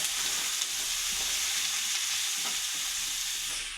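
Cabbage, beans, carrot and capsicum sautéing in a pan for chicken rice, a dense, even, close sizzle with faint stirring underneath and no talking.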